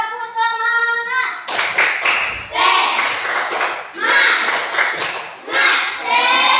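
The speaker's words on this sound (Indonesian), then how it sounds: "Tepuk semangat bisa? Bisa. Tepuk semangat." Classroom of students doing a rhythmic spirit clap in an Indonesian school lesson, bursts of patterned group clapping alternating with chanted voices, loud and close across the whole stretch.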